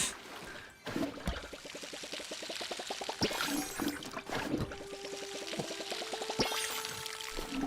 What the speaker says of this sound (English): Let me finish watering.